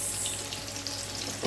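Greens (shak) frying in a pan with a little salt and sugar added, a soft steady sizzle with faint crackles and a low stirring scrape, fairly quiet and close.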